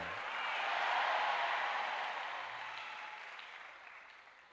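A church congregation applauds together, a soft, steady wash of many hands clapping that swells and then gradually fades, heard from a distance and fairly faint.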